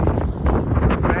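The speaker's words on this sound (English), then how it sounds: "Nasty and windy up here." Steady gusting wind buffets the microphone on an exposed Appalachian Trail ridge in Virginia, a continuous low roar with brief surges throughout.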